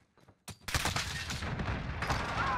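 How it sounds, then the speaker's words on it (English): Call of Duty Modern Warfare gunfire erupts as a dense, continuous volley of close automatic shots after a brief quiet moment, staying loud to the end. "Nathan shot at me from somewhere."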